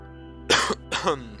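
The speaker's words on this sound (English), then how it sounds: "This cough is so annoying." Two harsh, close coughs in quick succession, short throaty bursts a fraction of a second apart, standing out loudly over a quiet steady background tone.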